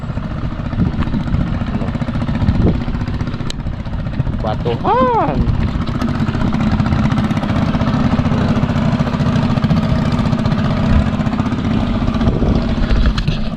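Steady droning fishing boat engines run throughout on the Pampanga River, loud and close, with someone speaking briefly over the constant motor noise.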